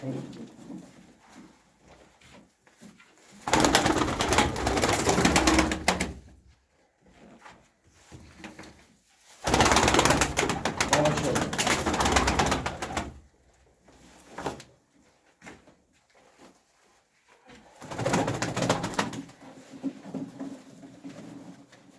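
Pigeons coo inside their coop in three long, rolling bursts of low throaty calls, close and moderately loud, separated by quieter gaps with faint rustling and knocks.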